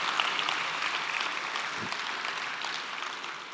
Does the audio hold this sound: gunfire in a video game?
no